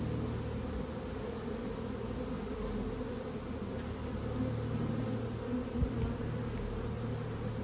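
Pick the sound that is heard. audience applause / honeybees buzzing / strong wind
honeybees buzzing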